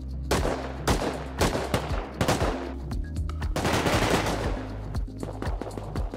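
Rust gunfire, loud and close: repeated rifle shots and rapid bursts in an irregular rhythm, some shots clustered tightly and others spaced apart, over a steady low rumble.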